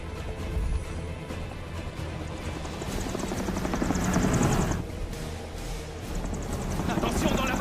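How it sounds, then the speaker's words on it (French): A helicopter's rotor thumps steadily close by in strong wind, loud and continuous, swelling midway, with a voice speaking over the noise. "Le vent est trop fort. L'hélico ne résistera pas."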